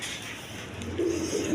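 Large pigeons kept for sale give a low coo that swells near the end, close by over a steady room hum with no talk.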